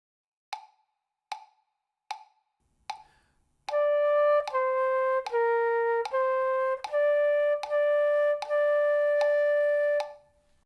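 A flute plays a short phrase of Merrily We Roll Along, with four brief tapped clicks counting in, then sustained clear notes in a steady rhythm of held tones, close and alone with no talking.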